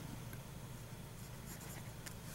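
Vintage 1930s Arnold button filler fountain pen with a fine steel nib scratching steadily across paper, quiet and close with a faint constant background hum.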